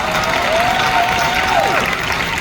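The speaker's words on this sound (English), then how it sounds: "Give yourselves a round of applause. And give Dr. Lynn an applause." An audience at a financial education event applauds itself and a guest speaker, Dr. Lynn, with moderately loud, steady clapping and a brief whistle or cheer rising and falling partway through.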